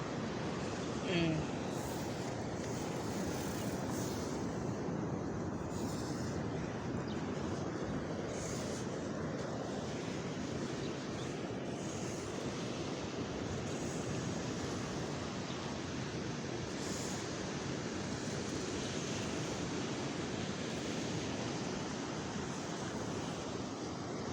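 Surf washes steadily onto a seashore where crabs burrow in holes, a continuous broadband roar of breaking waves with wind buffeting the microphone throughout and no clear pauses.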